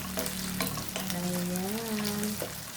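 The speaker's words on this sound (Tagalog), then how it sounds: "Iprito ko muna siya bago igisa" Hotdogs frying in a pan, an even, close sizzle running throughout with a few soft stirring touches and a faint tonal hum in the background.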